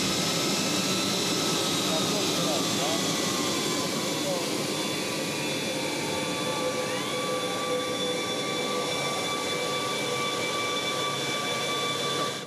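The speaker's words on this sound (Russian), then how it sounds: "И вот российский борт номер один уже разгоняется" Russian presidential jet accelerating along the runway for takeoff, a loud steady jet-engine roar with rising whine tones held throughout, with faint voices in the background.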